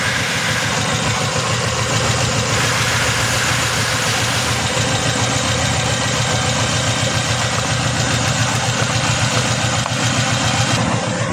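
A Nissan Cube engine with a misfiring injector idles steadily up close, a constant low rumble with a faint knocking pulse and no talk throughout.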